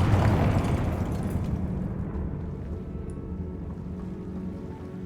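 The Confringo fire spell explodes in the video game Hogwarts Legacy: a loud, rumbling burst that decays slowly into a sustained roaring wash, with no talk.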